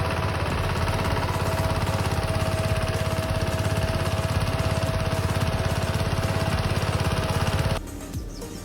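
A tractor engine runs steadily on a farm field with a fast, rough chugging throb that cuts off abruptly near the end, leaving quieter background noise.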